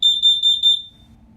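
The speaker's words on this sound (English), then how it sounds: "Oh, so it's also a CO detector." A combined smoke and carbon monoxide detector sounds during a home inspection test: a rapid train of about seven loud, shrill, evenly spaced beeps that stop abruptly, leaving quiet room hiss.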